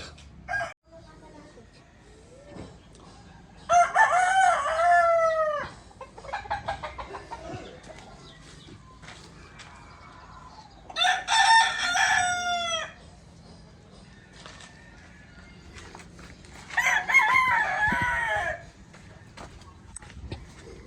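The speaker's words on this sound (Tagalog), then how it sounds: "Manok niya." A rooster crows three times, each call long and loud, spaced several seconds apart, with soft clucking and quiet voices in between.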